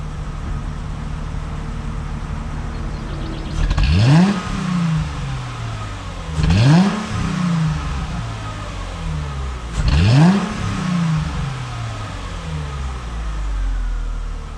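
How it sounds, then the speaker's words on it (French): A Chrysler Crossfire engine fitted with a Simons exhaust revs three times in sharp, evenly spaced bursts, each climbing quickly and falling back to a steady idle, loud and close. "Moi, je vais accélérer en restant au dehors de la bagnole pour pouvoir mesurer le pic qu'on a."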